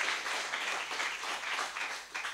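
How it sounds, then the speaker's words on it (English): An audience at a literary event applauds, a dense, steady wash of clapping heard from a moderate distance without any voices over it. "A round of applause for Tom Keneally."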